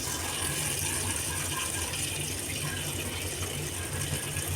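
Steady water flow from a zinc wash basin tap just after its filter was cleaned, a continuous broadband rushing hiss with a faint mechanical hum underneath, constant and fairly close throughout.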